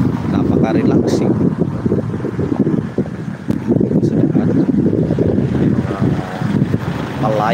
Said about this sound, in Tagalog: mahangin dito, napaka-relaxing.